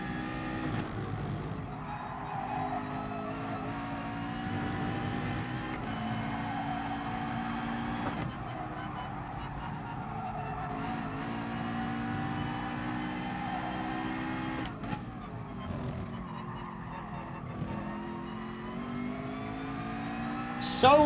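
A McLaren race car engine in Gran Turismo Sport drones steadily through the whole stretch, with repeated rising revs and sudden drops at gear shifts, loud and close, while a voice talks over it at times.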